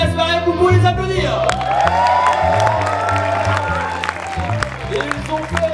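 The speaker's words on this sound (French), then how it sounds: "Vous pouvez les applaudir" An audience at a Mamagabe convention evening in Poitiers applauds and cheers for the hosts: dense, steady clapping from a large crowd with scattered whoops and shouts, lasting throughout with no pause.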